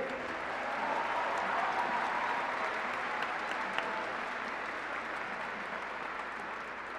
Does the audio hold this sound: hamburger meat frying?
no